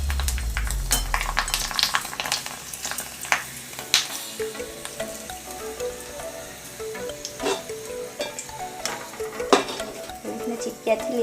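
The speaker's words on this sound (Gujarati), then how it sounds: "આજે મેં ભૂંગરા લીધા છે અને તળી લઈશું" Bhungra, dry wheel-shaped fryums, deep-frying in hot oil: a continuous crackling sizzle with scattered sharp clicks of tongs against the pan, moderately close and steady throughout.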